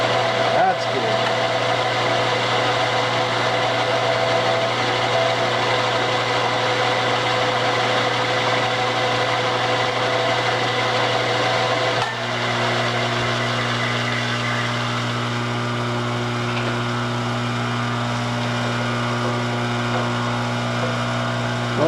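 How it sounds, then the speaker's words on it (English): A drill runs continuously while boring out a pilot hole, giving a steady droning whine that lowers in pitch partway through, loud and close. "Now we want to come in and drill out a small"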